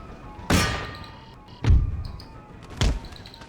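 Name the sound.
artillery firing in the video game Empire Total War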